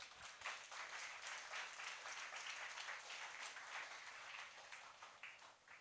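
Steady applause from a church congregation, a dense wash of clapping that holds evenly throughout at a moderate distance.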